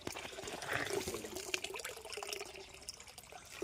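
Water runs through a pipe and pours into a cattle trough for the buffaloes, a steady moderate splashing flow heard up close with no voices.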